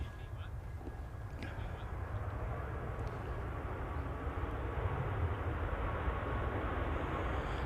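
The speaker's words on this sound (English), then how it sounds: "Ryanair's just touched down on 23 right, coming in from Madrid. Boeing 737-800 MAX." A Ryanair Boeing 737-800 MAX touches down on runway 23 right at Manchester Airport, its jet noise a steady low rumble that holds evenly throughout at moderate distance.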